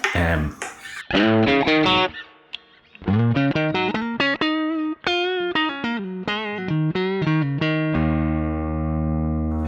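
Squier Classic Vibe Thinline Telecaster played loud through an overdriven amp, a run of distorted notes and chords with sustained tones, ending on a long ringing chord; no talking.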